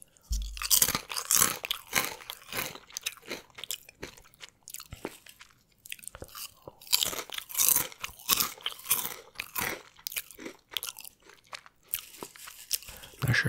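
Crisp chips crunch loudly up close, bite after bite with chewing between, a steady uneven rhythm and no talking.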